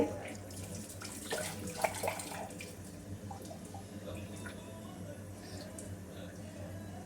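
Vegetables are rinsed under running water from a kitchen tap while preparing sambar: a steady, moderately loud stream with splashing, and a voice speaking over it.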